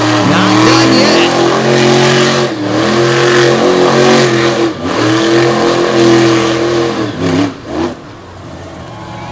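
A freestyle monster truck's loud engine revs and roars at Lake Erie Speedway, rising and falling in pitch over several throttle bursts, close and dominant, with faint crowd noise and announcer talk beneath.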